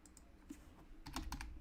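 Bursts of clicky keystrokes on a computer keyboard, a few scattered taps followed by a quicker, louder run of key presses, close and alone with no talking.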